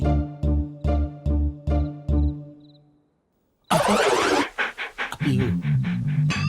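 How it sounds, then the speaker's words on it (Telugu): A dog pants in quick, evenly spaced breaths for about two and a half seconds, fading briefly before a sudden loud clamour bursts in, during a comedy film scene. "ఇది కరిచే కుక్క అస్సలు అరవదు"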